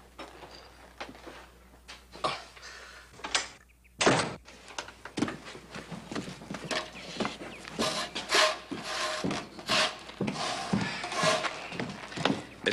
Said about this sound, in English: He's outside sawing wood.